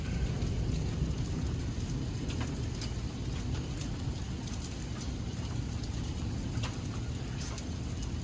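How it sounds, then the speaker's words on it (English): Small hailstones fall during a severe thunderstorm in Edwardsville, Illinois, a dense steady patter with scattered sharper ticks striking surfaces nearby, constant throughout without talk. "Yeah, there's hail coming down."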